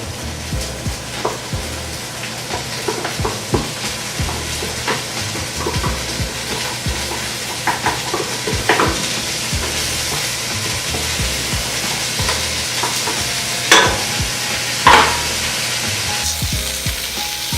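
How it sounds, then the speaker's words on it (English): Tuna being stirred into soft sweet mashed potatoes in a hot pan, with a steady sizzle and frying hiss under repeated scraping strokes and a couple of sharper knocks near the end. "I'm just going to stir the tuna around"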